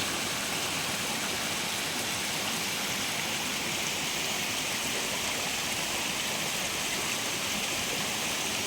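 Continuous broadband rush of the flowing Agos River, even and close, with no voices or other sounds.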